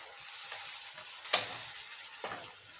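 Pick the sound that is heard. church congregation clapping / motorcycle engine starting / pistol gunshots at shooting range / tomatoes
tomatoes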